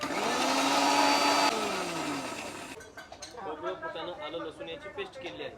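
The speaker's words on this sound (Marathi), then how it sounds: "परत वाटून घ्यायचं ह्याला बारीक" A mixer grinder blending dried Bombay duck with coconut, roasted gram, ginger and garlic into a paste, running loud with a rising then falling whine before stopping, followed by clinks and rustling as the jar is handled.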